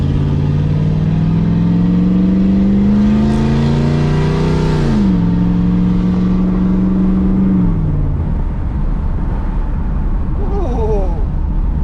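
A Chevrolet Camaro Z28 engine drones loudly up close as the car drives off and accelerates, pitch climbing, dipping at a gear change and climbing again before easing off, with people talking over it.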